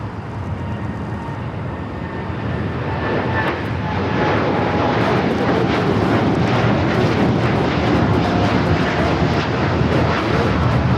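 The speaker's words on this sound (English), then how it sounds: "this Dreamliner will be heading to Shanghai" Boeing 787 Dreamliner bound for Shanghai builds from a moderate whine into a broad, loud engine roar that swells after a few seconds and holds steady to the end.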